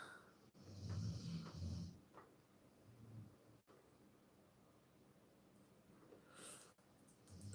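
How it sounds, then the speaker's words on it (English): A pointer dog snores faintly at close range, with a couple of breathy snorting inhalations early on followed by quieter, softer breathing. "The one that snores, she's a pointer."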